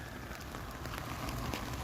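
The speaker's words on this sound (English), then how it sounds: "Rather icy rain." Freezing rain coming down steadily on a Toronto city street on a cold evening just above freezing, a dense, even hiss of drops with faint scattered patters, continuous throughout and no talking.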